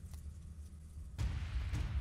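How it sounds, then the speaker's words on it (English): A video game explosion in Tokyo Ghoul bursts in suddenly after a quieter low rumble, a loud broad boom followed by a sustained roar and a second hit near the end. "Oh, that explosion was so HD."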